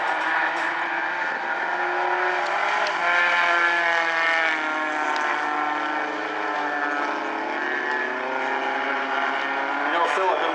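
Race cars in an Outlaw Tuners heat roar around the dirt track at Grays Harbor Raceway, a loud sustained engine drone that rises and falls in pitch as the cars pass.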